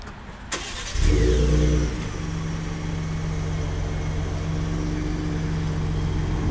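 A 2019 Ford Raptor starts by remote start: the engine cranks and catches with a loud, close burst about a second in, then settles into a steady, rumbling idle that continues to the end. No one speaks.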